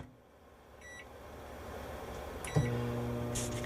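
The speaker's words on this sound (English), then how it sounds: "I'm going to pop this in the microwave to melt the butter" Microwave oven running to melt butter with Italian seasoning: a steady low hum and whir rising slightly, with faint electronic tones and a soft thump partway through, close and quiet.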